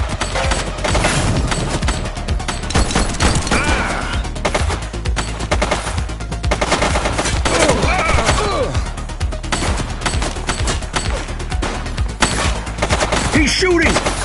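Continuous rapid gunfire in the police video game The Precinct, with dense automatic bursts and overlapping shots. The loud fusillade fills the whole stretch without a break.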